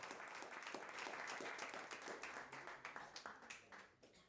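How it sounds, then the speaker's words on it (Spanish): Church congregation applauding during a Spanish-language worship service, a dense, continuous roar of clapping that fades slightly toward the end, heard faintly at a distance. "Dale un aplauso al Señor"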